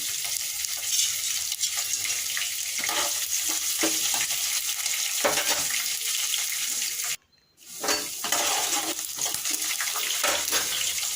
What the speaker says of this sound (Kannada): ಆಮೇಲೆ ಫ್ರೈ ಮಾಡಬೇಕು.